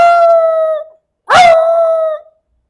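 A human voice imitates a dog howling, making two loud, close, sustained howls that tail off, separated by a short silence, with no instruments.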